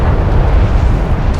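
A deep, rumbling blast from a destroyed craft in Homeworld: Deserts of Kharak, loud and close, sustained as a heavy low roar.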